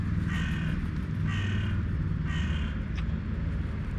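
A crow caws three times at a steady pace, then gives a short fourth call, over a low rumbling background.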